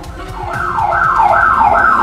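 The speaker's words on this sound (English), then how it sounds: "And triggering an alarm." A loud electronic alarm, set off during a break-in attempt and picked up by a doorbell camera, wails in a repeating rising-and-falling siren pattern about three cycles long, close and steady.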